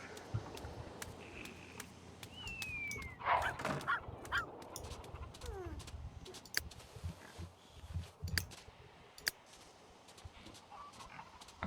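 A dog in The Sims 3 scampers around making odd little clunking, honking noises, scattered game sounds popping in and out over a quiet background hum.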